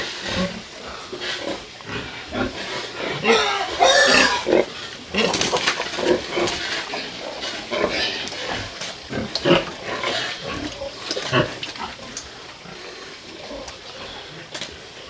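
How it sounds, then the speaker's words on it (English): Pigs on a farm grunt and snuffle in a steady scatter of close, rough bursts, with busy rustling in the background. "Seeing how all the pigs are doing."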